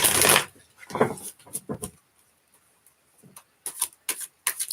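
Tarot cards are shuffled by hand in loud, quick riffling bursts with short pauses between them, close and dry, and a voice speaks briefly in between.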